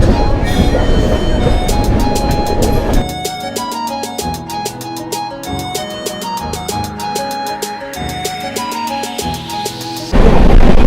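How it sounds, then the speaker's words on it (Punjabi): A passenger train bound for Gwalior rumbles past close by, wheels clacking rhythmically on the rails with a rising whine, then the loud roar returns as it passes. "ਇਹ ਤੇ ਉਹ ਟ੍ਰੇਨ ਜਾ ਰਹੀ ਹੈ ਗਵਾਲੀਅਰ ਵੱਲ"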